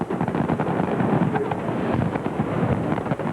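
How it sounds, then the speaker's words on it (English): A large fireworks display over Little Rock, a dense continuous barrage of booming bursts and crackling pops rolling together from a distance. "it all began with the biggest fireworks display Little Rock had ever seen"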